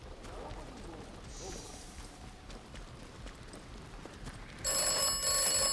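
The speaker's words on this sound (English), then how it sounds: "There's telephone ringing." A telephone rings inside the ruins of an abbey near a lake in the video game Atomfall, a bright repeated electronic trill that starts suddenly near the end, loud over a quiet outdoor ambience.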